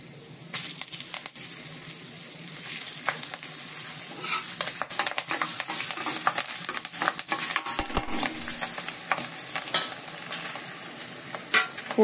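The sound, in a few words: tempering with curry leaves and chili sizzling in oil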